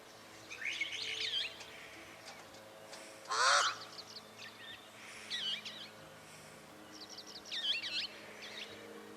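Pied crows call as they fly past, giving several harsh, bursting calls spread across the span, one louder croak near the middle over a faint background hum.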